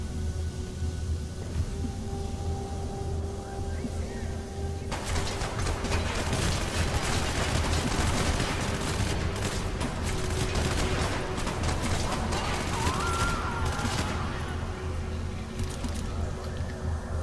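Handgun shots in the violent shooter video game Hatred, a dense run of sharp cracks after a quieter opening, steady game noise underneath and a voice speaking at times.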